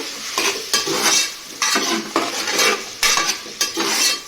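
Potatoes coated in masala are stirred in a pan for a spicy khichdi, with rhythmic scraping strokes about every half second over a light frying sizzle. It is close and loud, and no one speaks.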